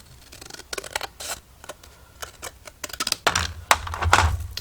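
Scissors snip through paper for the inner side panel of a handmade card or recipe storage box, a run of short crisp cuts in quick bursts, close and fairly quiet, with one longer louder cut near the end.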